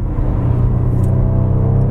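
Audi RS4 Avant B9 with a 450 PS turbocharged engine, heard from inside as a loud, deep, steady rumbling roar under acceleration.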